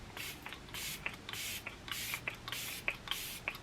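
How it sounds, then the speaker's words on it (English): ELF Stay All Night Microfine Setting Spray misted in several quick hissing bursts close by, with soft handling sounds between them. "I'm gonna use this little ELF Stay All Night Microfine Setting Spray."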